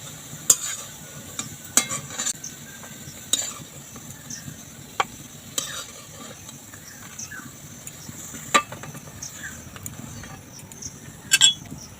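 Ripe banana fritters crackle gently in frying oil, a low steady sizzle punctuated by a series of sharp, irregular metallic taps and scrapes from a spatula in the pan.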